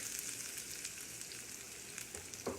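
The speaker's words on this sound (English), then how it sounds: "you're trying not to burn the seeds, but they have to pop and splutter in order to not be bitter" Seeds pop and splutter as they fry in hot oil in a pan alongside grated ginger and garlic for an Indian dish, a steady close sizzle broken by sharp crackles, with a louder burst near the end.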